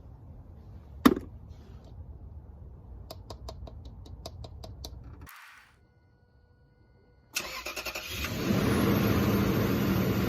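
A 1973 AMC Gremlin engine is cranked and catches, then settles into a loud, steady running idle after a few seconds of quiet clicks and a sharp knock; no talking.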